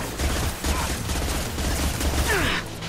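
Gunfire and a concussive shot from the video game Mass Effect 2 form a dense, continuous rattle of rapid shots at steady loudness, with a brief sweeping effect near the end and faint voices mixed in.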